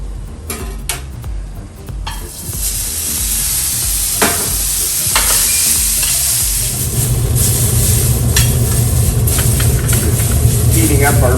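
Previously cooked fettuccine heating in a pan for a seafood cioppino, a steady sizzle and simmer with occasional stirring clinks of a utensil, while a voice talks over it.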